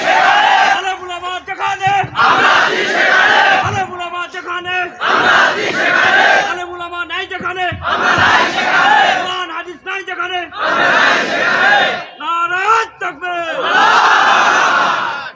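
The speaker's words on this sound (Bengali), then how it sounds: "যে তাকবীর দিচ্ছেন মারেন এবার জোরে।" A large crowd at a Bangla waz sermon roars the takbir in call-and-response bursts, loud massed voices rising and falling in repeated waves with short gaps between them over about fifteen seconds.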